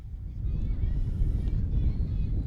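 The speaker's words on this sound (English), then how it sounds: "Very windy here at the ETW." Strong wind gusting at an outdoor cricket ground on a blustery Friday afternoon, a continuous low roar buffeting the microphone for the whole stretch, with talk nearby.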